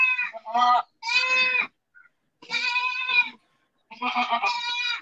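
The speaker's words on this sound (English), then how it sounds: "this is sick goat, weaker goat, old age goat" Several loud, close goats bleat in a burst of overlapping harmonic cries at a goat farm with Sirohi goats, including sick, weak and old animals kept apart, with short pauses between calls.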